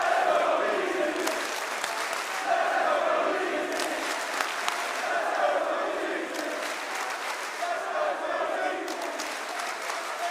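A large arena crowd at the Manchester Major esports quarterfinal (2024) cheers and claps steadily for DarkZero, a dense sustained roar with scattered sharp claps and shouts; the noise stays fairly even, and voices seem mixed in throughout.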